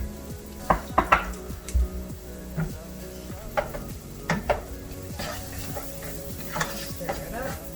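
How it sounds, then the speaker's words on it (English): Onions sprinkled with a little sugar are stirred in a frying pan, a utensil scraping and clinking against the pan in irregular strokes over a steady sizzle, close with no talk. "Stir it up."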